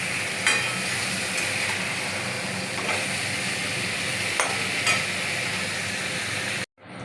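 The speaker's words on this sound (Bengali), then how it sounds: "মশলা দিয়ে আর এই সবজিগুলো কষানো হচ্ছে" Vegetables with spices sautéing in a pan, an even frying hiss with a few sharp spatula scrapes and taps at intervals, cutting off abruptly just before the end.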